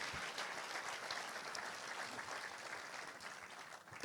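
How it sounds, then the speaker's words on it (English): An audience at the FameLab International Final 2018 gives the British Council a round of applause, a dense, even wash of clapping that holds steady for a few seconds. "let's have a clap for the British Council."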